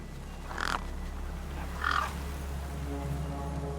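Gang birds in the game Beyond a Steel Sky caw over a corpse: two harsh, rasping calls about a second apart over a steady low ambient hum, close and distinct.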